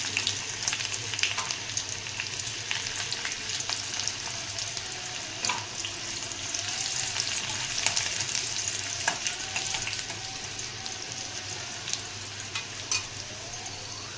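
Chopped onion sizzles in hot oil tempered with cumin and mustard seeds, a steady close hiss with scattered pops and crackles throughout, no talking.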